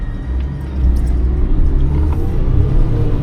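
A Suzuki Jimny JB23 with lockers, lift and snorkel pulls away in four-wheel low off-road, its engine a steady, close rumble that builds as it drives out, with no talking.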